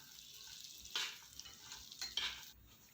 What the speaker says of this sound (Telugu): ఒక కప్పు గుమ్మడి గింజలు, ఒక కప్పు దోస విత్తనాలు వేసుకొని బాగా ఫ్రై చేయాలి